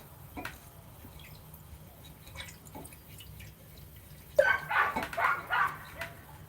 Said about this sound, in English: It's hard to think with those dogs yapping in your ears.